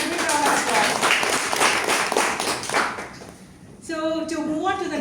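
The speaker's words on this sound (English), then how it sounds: "Give him a big round of applause" Applause at a Toastmasters club meeting: a roomful of people claps briskly for about three seconds, fading out as a voice begins speaking alongside the last claps.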